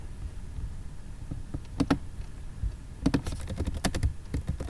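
Computer keyboard clacking as C code is typed, a few quick clusters of close keystrokes separated by short gaps over faint room hum.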